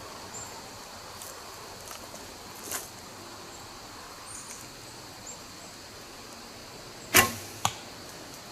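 An arrow is shot from a bow at a 3D archery target outdoors, a sharp sudden thwack standing out near the end against quiet rustling background with a few faint ticks before it.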